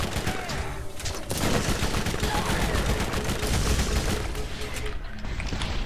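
Automatic turret gunfire in Borderlands, a dense, continuous barrage of rapid shots mixed with explosions and game noise, loud and sustained throughout.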